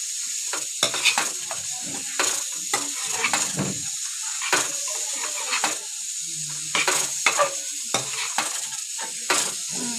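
Chicken fries in a pan over a gas flame, with a steady sizzle under repeated scraping stirs of a utensil against the metal pan.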